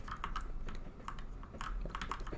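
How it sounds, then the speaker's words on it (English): Loud computer keyboard being typed on in quick irregular bursts of clacking keystrokes, close and fairly constant with brief pauses, during a session of Vampire Survivors. "apologies for the loud keyboard, but you're gonna be hearing that for a while, probably"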